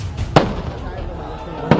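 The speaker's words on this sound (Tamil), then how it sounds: "போராட்டக் களத்தின் அருகே வான வேடிக்கைகளும் களை கட்டின." Fireworks bursting near a farmers' protest site on New Year's night, two sharp pops about a second and a half apart over a steady low rumble of crowd noise and background voices.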